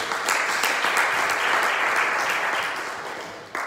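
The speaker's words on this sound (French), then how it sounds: "Acclamons très fort le Seigneur." A church congregation at a Sunday service bursts into sustained, loud applause that fills the room, steady dense clapping holding for several seconds before easing slightly near the end.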